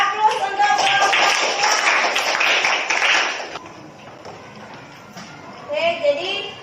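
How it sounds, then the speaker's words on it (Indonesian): Classroom applause for a presenting student group, a few seconds of scattered clapping that fades out, followed by quieter room sounds and some talking. "Kasih aplaus untuk kelompok"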